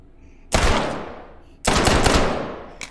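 Two loud, close bursts of automatic gunfire from the firearms game H3VR, each a dense roaring blast that slowly fades, separated by a brief pause, with a short sharp shot at the very end.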